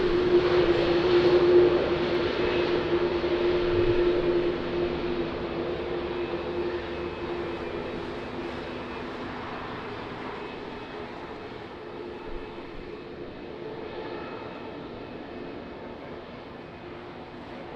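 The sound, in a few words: Boeing 787-9 airliner at Lisbon Airport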